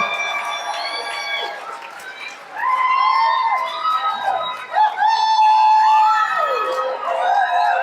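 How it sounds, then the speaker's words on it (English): A convention crowd at Washington State Summer Con 2024 cheers and whoops for the Sons of Anarchy cast panel, loud and sustained, with high shouts and voices swelling louder partway through. "Big round of applause for Sons of Anarchy class members."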